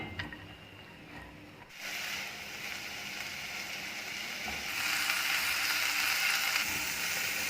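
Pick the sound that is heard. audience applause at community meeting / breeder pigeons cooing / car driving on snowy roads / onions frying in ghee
onions frying in ghee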